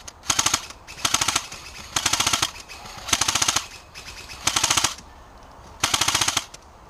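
Airsoft gun fired at a bunker on an outdoor field, six loud bursts of rapid shots at a steady interval, each lasting about half a second, with no talk.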